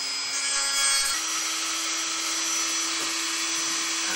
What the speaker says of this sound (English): I'm just very gently letting the tool grind it on down.